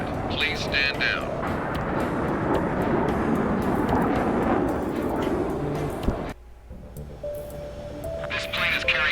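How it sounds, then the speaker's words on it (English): Jet aircraft in Ace Combat 7 rush past with a loud, steady roar, dropping abruptly to near-silence partway through, while voices talk over the noise. "Multiple unidentified aircraft approaching."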